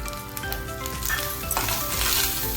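Grated coconut sautés in a pan for modak filling, a steady sizzle with stirring scrapes and light clinks of utensil against the pan, fairly close and without talk.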